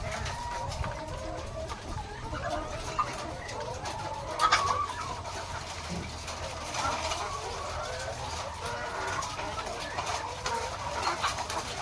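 Laying hens cluck softly and intermittently nearby over a faint background hum, with a brief louder squawk partway through.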